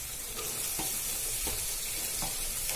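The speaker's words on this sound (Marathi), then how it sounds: "आता आपण याच्यात टोमॅटो ऍड करतो." Tomatoes are added to onions frying in oil, giving a steady, loud sizzle that fills the clip alone, with a few soft scrape-like stirring strokes spaced through it.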